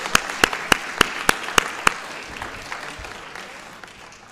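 An audience at a school board meeting applauds for Santos, a handful of loud claps up front over a steady wash of clapping that slowly fades.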